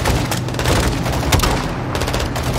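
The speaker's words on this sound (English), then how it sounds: "Guys, hit with the launcher!" Heavy gunfire and explosive booms rattle continuously in a Modern Warfare 2 battle, with a rocket launcher being fired amid dense overlapping shots, loud and close throughout.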